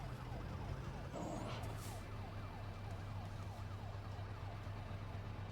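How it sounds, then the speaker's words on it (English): Police car siren wailing at a distance in American Truck Simulator, a repeating up-and-down sweep over the steady low drone of the truck engine, with no talk. "I hear a police car."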